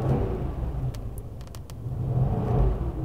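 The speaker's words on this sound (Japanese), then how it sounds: "AMG らしいですね、4リッターの V8 の音ですね。" A 2015 Mercedes-AMG C63 with a 4-litre V8 rumbles at idle and swells under throttle, a deep, steady engine note close by with no talk over it.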